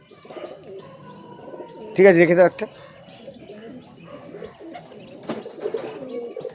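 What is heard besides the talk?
adult pigeons cooing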